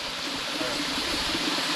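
Steady broadband rush of a waterfall outdoors in St. Vincent and the Grenadines, a constant, fairly soft hiss of falling water running unbroken with no voices.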